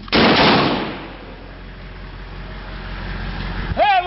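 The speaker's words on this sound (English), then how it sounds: "Hey, we got gunfire." Gunfire during a firefight between US and Iraqi forces, heard as a loud burst of shots up close followed by a sustained rumble of distant firing and a vehicle-like drone, with a brief voice near the end.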